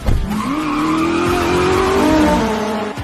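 Loud, close tire squeal from a skidding race car, a sustained rising screech over engine noise that lasts about three seconds before cutting off.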